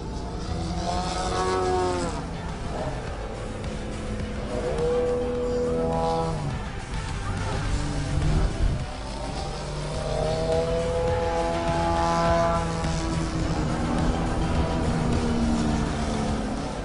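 Large model airplane with a 270 cc engine, a Vipercut with a 5.5 m wingspan, drones steadily at an outdoor flying meet, its pitch rising and falling as it passes, loud and continuous throughout.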